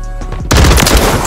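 A Ram-9 rifle fires on the firing range in Modern Warfare 3, opening with a quiet lead-in and then a loud, sustained burst of rapid automatic shots up close.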